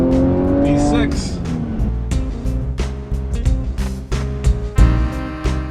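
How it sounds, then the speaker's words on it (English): A supercharged V6 in a 2017 Jaguar F-Pace crossover drives along with a steady engine drone and road noise, a few sharper bumps and surges breaking through near the end. "It's not too loud, it's not too intrusive, but yet it's loud enough to be there so you know that you're behind the wheel of a supercharged"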